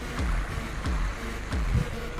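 A small fishing boat approaches across open sea, with a steady close engine and water wash and rhythmic slaps of waves against the hull, no voices.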